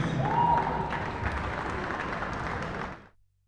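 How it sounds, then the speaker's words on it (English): Crowd applause in a gym for seniors honored on Senior Day at a men's college basketball game, broad steady clapping with crowd noise that cuts off abruptly near the end. "So a big round of applause for the 4 seniors honored today on Senior Day"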